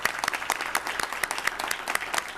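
Audience at an inclusion and diversity award luncheon applauding, a steady burst of close, crisp clapping lasting a couple of seconds.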